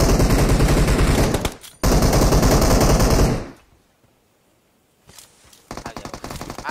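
Loud, rapid automatic gunfire during a BGMI firefight, with two long bursts of rattling shots separated by a short gap, then a quiet pause before more bursts resume, close and dominant.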